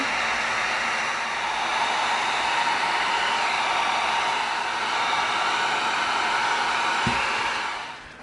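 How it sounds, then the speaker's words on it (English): A heat gun blows hot air onto EVA foam in a steady, loud, close whoosh that runs without a break and fades slightly at the very end, with no talking. "Now we're going to let our heat gun get nice and hot."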